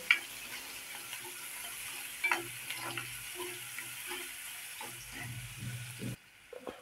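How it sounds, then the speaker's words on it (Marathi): Onion sautés in a pan for restaurant-style cashew curry, a quiet steady sizzle with repeated light stirring scrapes, close and without speech, cutting off abruptly near the end. "कांदा व्यवस्थित परतून घेऊया।"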